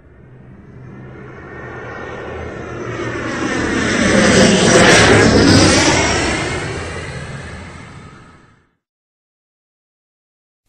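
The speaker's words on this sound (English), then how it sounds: "Airplane." An airplane's engine drone swells as it approaches, peaks loud overhead with a sweeping change in pitch, then recedes and cuts off into silence, with no voices.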